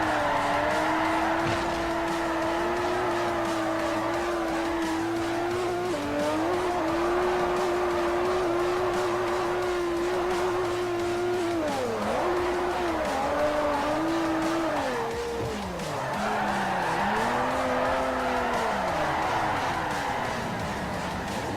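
Nissan S14 with an RB26 engine drifting in Forza Motorsport 4, a loud sustained engine drone with long wavering tire squeals as the car slides under handbrake, dipping and rising again through the run.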